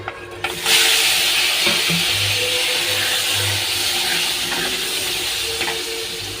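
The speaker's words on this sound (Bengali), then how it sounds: "এবার এই তেলের মধ্যে আমি আলুটা ভেজে নেব।" Potatoes hit hot oil left over from frying fish, bursting into a loud, close, steady sizzle that keeps hissing throughout, with a few faint stirring knocks underneath.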